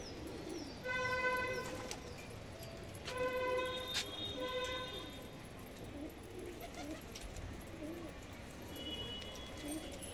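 Pigeons on the ground coo softly in repeated low, rhythmic phrases against a quiet outdoor background, with faint ambient noise and occasional distant calls.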